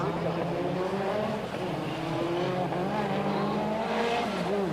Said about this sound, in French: La montée de Mayenne pour Philippe Tolmer. Qu'est-ce que ça roule, qu'est-ce qu'elle est impressionnante cette voiture